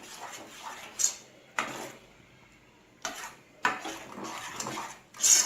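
A spoon stirs naivedyam sweet in a pot, giving several irregular scraping strokes spaced a second or two apart, close and fairly clear.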